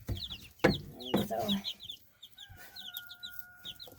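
Chicks in a water tank brooder cheep in repeated high chirps, close by, while someone speaks briefly over them.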